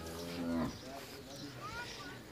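A cross-breed dairy cow in Pakistan gives one close, loud, drawn-out moo, followed by quieter low sounds and background noise.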